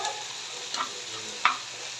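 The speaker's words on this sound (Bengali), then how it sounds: "মটরশুঁটি ভাজা হয়ে গেছে" Green peas frying in a pan for a tomato and pea fish dish, a steady soft sizzle broken by two brief stirring clinks, close and moderately quiet.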